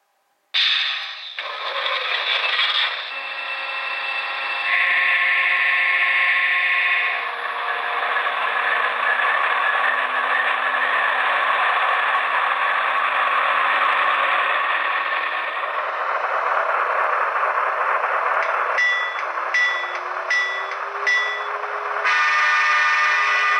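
A small diesel engine sound cranks up and settles into a steady droning rumble, with metallic clanks, a horn-like tone and a burst of rapid clicks near the end, from a Broadway Limited CSX AC6000 model locomotive's startup sounds.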